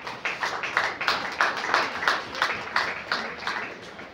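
A symposium audience on Christian family and marriage breaks into applause, rhythmic, fairly close clapping that pulses in regular beats, with faint voices underneath.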